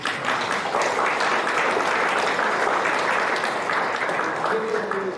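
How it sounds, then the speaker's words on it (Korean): Sustained applause from an audience at a university ceremony honouring an award, dense steady clapping filling the room at even loudness throughout with no pauses. "박수 한번 보내주세요."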